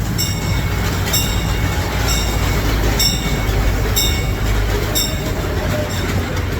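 Amusement park train at Knoebels rolling on its rails, a loud close steady rumble with regular clickety-clack beats about once a second as the wheels cross rail joints.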